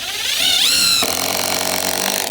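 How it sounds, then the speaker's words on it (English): A power tool cuts wood for a boat superstructure, running loud and close with a high whining tone that climbs as the blade bites, then a rougher steady grind until it cuts off near the end. "You let the blind guy cut the wood."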